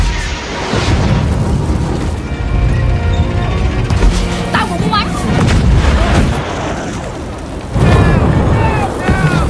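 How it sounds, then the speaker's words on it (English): B-40 rocket launchers firing in a war movie scene, heavy booms and blasts amid loud battle noise and shouting voices, with dense rumbling layers throughout. "two guerrillas immediately fire B-40 rocket launchers"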